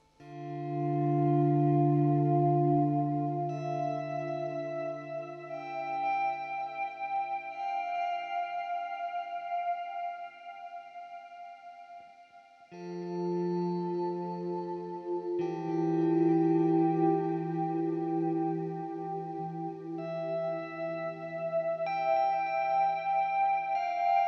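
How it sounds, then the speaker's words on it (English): Slow electric guitar notes ring out through a pitch-shift pedal, a pitch-shifted layer doubling them, creating a bright, bell-like, sustained shimmer that swells and fades. "this is how the pitch sounds."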